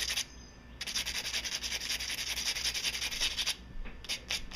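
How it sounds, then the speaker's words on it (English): Fine-grit sandpaper is rubbed by hand over a surface in quick back-and-forth strokes, a soft, close scratchy rasp that starts and stops in short bursts with no voices. "I'm gonna switch to a little bit finer grit sandpaper."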